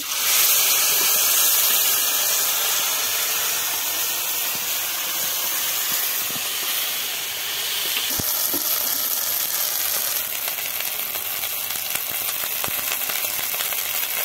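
Spices such as bay leaves go one by one into hot oil in a pan, giving a loud, continuous hiss and sizzle with faint stirring clicks throughout.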